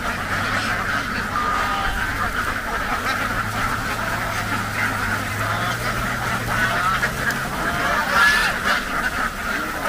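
A large flock of laying ducks in Vietnam's Mekong Delta, thousands strong, returning from the fields to their pen, quacking in a dense, continuous chorus with a steady low background rumble.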